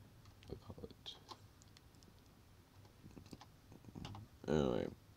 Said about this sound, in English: I need to do a lot of clicky, clicky, clicking.